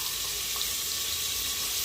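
Rice frying in a kadhai on a home stove, a steady, fairly quiet broadband hiss of sizzling oil that continues evenly without pauses or voices.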